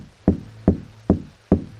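Four evenly spaced, solid knocks on a door in Minecraft, each a close, punchy thud with a quick decay, heard alone without talk.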